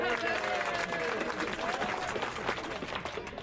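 Outdoor crowd applause at the Ghost Town street show at Knott's Berry Farm, a sustained patter of many hands from a gathered audience with voices and calls mingling throughout.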